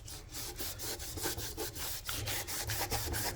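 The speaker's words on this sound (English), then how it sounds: "So I'm going to get a damp cloth and wipe up the excess glue here." Damp blue shop towel wiping excess fish glue off an Orangewood acoustic guitar during a broken neck repair, a steady close rubbing with quick repeated strokes, alone.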